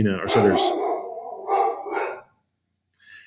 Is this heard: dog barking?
yes